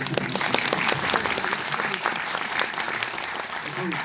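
Dense, steady applause from a crowd, many hands clapping at once throughout with a few voices mixed in.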